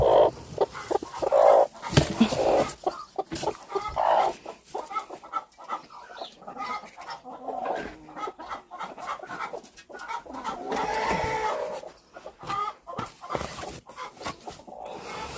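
Chickens cluck and squawk in a summer farmyard alongside goslings and chicks, close and busy, with irregular bursts of calls throughout and some handling noise.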